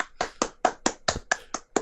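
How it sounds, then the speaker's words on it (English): Nine sharp hand claps in a steady, evenly spaced rhythm, close and crisp, with silence between each clap and no voices, during a casual gaming podcast recording. "Everybody clap your hands. Clap your hands."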